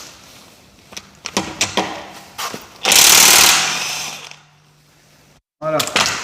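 An impact wrench removing the wheel bolts on an Audi S8, a few short clicks and taps, then a loud buzzing rattle for about a second and a half, and another brief burst at the end.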